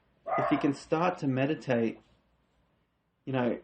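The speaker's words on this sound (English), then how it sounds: "sorry about the dogs again." Dogs bark and whimper indoors in several short bursts while someone speaks, the barking partly tangled with his voice and returning once more after a pause.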